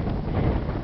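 Strong wind roars in a steady, loud rush across the microphone atop a fire tower on Glastonbury Mountain, Vermont, during a storm, with continuous buffeting gusts.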